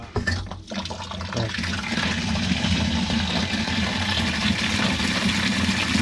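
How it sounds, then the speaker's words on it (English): Water drains from a wood boiler through a valve into a bucket, a steady rushing pour with a gurgling splash that stays fairly loud and constant throughout, no voices. "And then drain it into the bucket."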